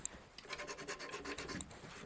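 Sandpaper rasps back and forth across wooden drawers to distress the finish, in quick, even strokes, about a dozen scratchy passes close up, with no voices.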